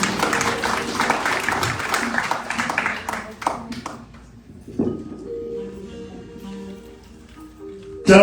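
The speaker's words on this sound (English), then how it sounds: "give him a lovely round of applause" An audience at a temple Ramayan yagya claps for a singer in a dense burst that thins out and fades by the middle, followed by quieter sustained tones.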